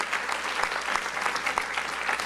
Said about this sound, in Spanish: Y denle un aplauso al Señor, porque nos ama